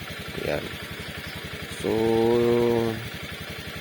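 A Honda Click 125 FI V3 scooter engine idling with a steady, quiet rhythmic putter, heard close up while someone talks over it.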